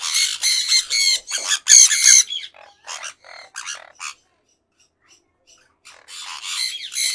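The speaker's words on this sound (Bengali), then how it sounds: "সানকানুর খুবই অ্যাগ্রেসিভ পাখি, ব্রিডিং মোডে আসলে ওরা খুবই অ্যাগ্রেশন দেখায়" Sun conures in breeding season let out harsh, piercing squawks in rapid repeated bursts, loud and close, fading to a brief quiet stretch before another volley of shrill calls.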